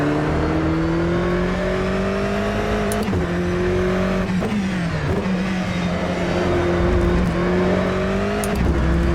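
Loud GTE race car engine in the sim racing game rFactor 2, a steady high drone that holds through a lap with brief throttle lifts and gear shifts, no talk over it.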